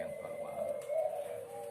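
A zebra dove (derkuku) coos in a soft, steady, low rolling call, close and sustained over a quiet background.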